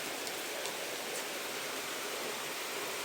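Very heavy rain pours in a steady, dense roar that stays loud and unbroken throughout, with no voices.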